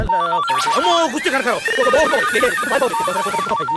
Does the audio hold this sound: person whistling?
no